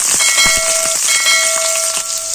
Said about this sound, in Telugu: ఇప్పుడు కొంచెం అలాగే సన్నగా తరిగి పెట్టుకున్న ఉల్లిపాయలు వేసుకోవాలండి